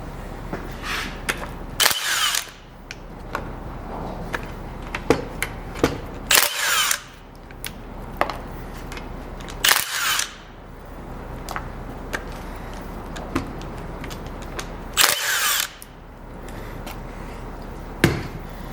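Power tool on a Dana 20 transfer case from a 1966-1977 Ford Bronco, removing the front output shaft bearing retainer: four loud, short bursts of a drill or impact driver spaced a few seconds apart, with small clanks of handling in between.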